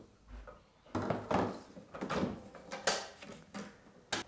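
The automatic pre-ground door on a Jura Z7 coffee machine opens and shuts with a run of soft mechanical clicks, thunks and sliding knocks, fairly quiet and close, with no talking over them.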